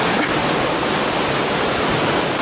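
Melanting waterfall in Munduk, Bali, a loud, steady roar of falling water filling the air from close by, constant and unbroken with no voices.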